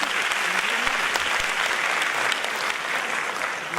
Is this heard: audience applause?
yes